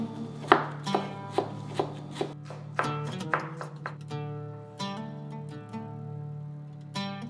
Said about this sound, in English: roll them into a tight log and use your sharp knife to slice it into strips